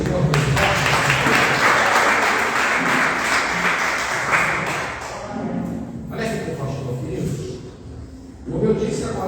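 A seated church congregation at a revival service applauds together with loud, thick clapping for several seconds. The clapping thins and fades toward the end as other sounds come in.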